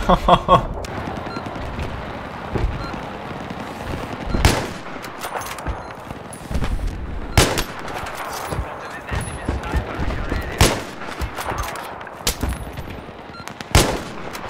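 Gunfire from the Battlefield video game comes in bursts, with sharp rifle shots and sustained automatic volleys spread across the clip, loud and close, among other battle noise.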